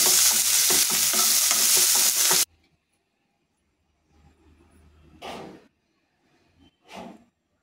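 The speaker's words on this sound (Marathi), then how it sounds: "इथं तेल कढईमध्ये घातलेलं आहे। आता आपण कारलं घालूया।" Bitter gourd sizzles loudly in oil in a kadhai wok with rhythmic stirring, then cuts off abruptly, leaving near silence broken by two short scraping swishes.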